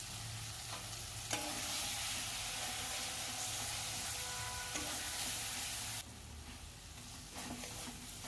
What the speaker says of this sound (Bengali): আলুটা দিয়ে আবারও আমি মশলাটাকে কষিয়ে নেব।